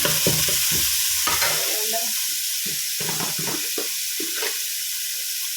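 Finely chopped onions fry in a pan for Mangalorean bondaas sukka. Hard clanks of stirring open the sound, then a busy crackling sizzle continues with occasional utensil taps.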